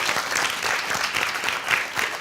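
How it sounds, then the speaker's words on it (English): A crowd of audience members applauds the contenders at a competition event, producing a dense, steady wash of clapping from start to finish with no voices over it. "Let's give our contenders another big round of applause."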